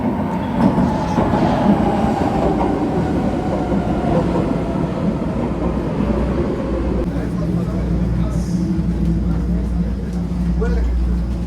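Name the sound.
metro train riding between stops in Vienna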